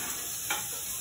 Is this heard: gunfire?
no